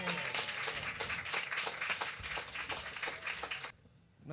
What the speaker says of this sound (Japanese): バンドの皆さんにもう一度拍手を。